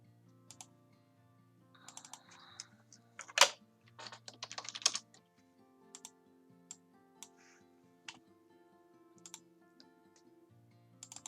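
Quiet, irregular clicks of a computer keyboard as someone types a short file name, single keystrokes and small bursts with pauses, close and soft.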